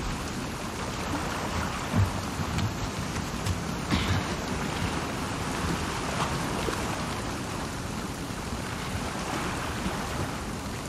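Steady, dense rain from the game The Last of Us Part II hisses without a break, with a few faint low rumbles of thunder and no voices.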